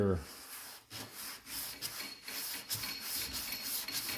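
Sanding block rubbed back and forth across the body of a 1963 Cadillac Coupe de Ville, a steady close raspy scraping with rhythmic strokes and brief pauses, no talk.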